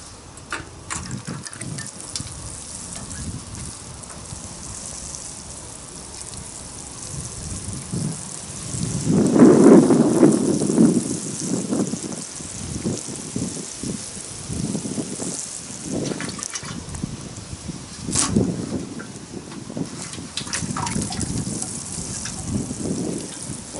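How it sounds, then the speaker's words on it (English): Water gushes and splashes steadily onto soil while newly planted cyclamen bulbs are given a good soak outdoors, a rushing pour that swells loudest midway before continuing with scattered bumps and rustles. "I'm going to water them in, give them a good soak"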